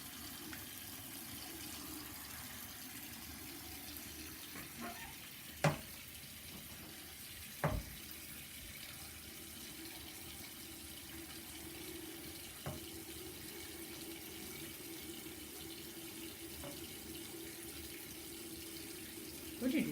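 A bathroom tap runs steadily for the whole stretch while a cleaning cloth is rinsed under it, a soft continuous hiss broken by a few brief knocks and splashes, fairly quiet.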